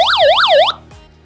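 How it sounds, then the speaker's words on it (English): A Fos Power NOAA emergency weather radio (Model A1) sounds a loud electronic wailing SOS siren that sweeps rapidly up and down a few times, then cuts off abruptly, leaving a brief faint tail. "it sounds the siren"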